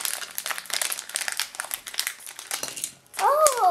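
A plastic blind bag wrapper crinkles in quick, sharp bursts as scissors cut it open, close and crisp, with someone talking and a squeaky sound near the end.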